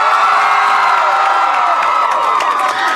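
Crowd cheering, whooping and clapping fills a live acoustic session at Zia Records, a loud sustained roar of many voices and hands held steady throughout.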